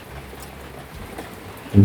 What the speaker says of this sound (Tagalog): Nung nakaraan ganyan yung ulan. Isa malakas.